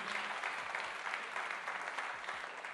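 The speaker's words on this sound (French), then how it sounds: "le général Vincent Desportes qui est là, qu'on peut, comme les 3 précédents, déjà applaudir" A conference audience at a regional chambers opening event claps steadily, an even, moderately quiet patter of many hands sustained without pause.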